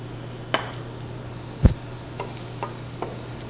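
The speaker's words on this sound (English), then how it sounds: "the reserved little bit of olive oil that I saved up for the mushrooms and add those right in" Mushrooms cook in olive oil in a crowded skillet, giving a steady, even frying hiss over a low hum, with a few sharp utensil clicks and taps scattered through.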